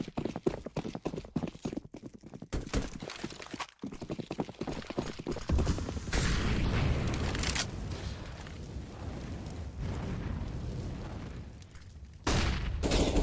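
AK 7.62mm rifles fire in a Counter-Strike match, rapid bursts of gunshots in quick rhythmic strings, then a denser stretch of continuous noise, with a caster talking over the action.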